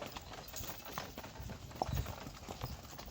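Hooves of working draft horse mares clip-clop at a steady rhythm, fairly faint and somewhat distant, with a few louder thuds midway and no one speaking.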